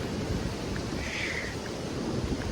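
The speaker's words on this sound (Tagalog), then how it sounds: "Ito yung mga alon doon." Ocean waves wash against a rocky beach in Quezon, a continuous broad hiss of surf with steady, unbroken loudness and a light wind rush on top.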